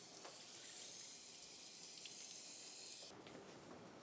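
Water sprays and rinses disinfectant residue off the frame of an IH1200 stretcher, producing a soft, steady hiss that is fairly faint and cuts off abruptly after about three seconds.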